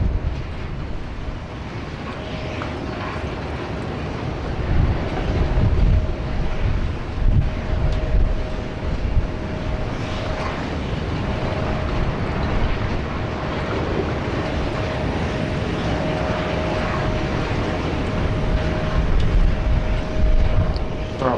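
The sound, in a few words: Jetstar Airbus A320 jet airliner landing at Sydney Airport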